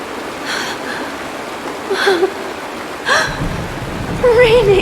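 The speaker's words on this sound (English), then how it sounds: "It is raining! It's true!" Steady rain hisses throughout in the video game Honkai: Star Rail while voices cry out excitedly over it in short bursts.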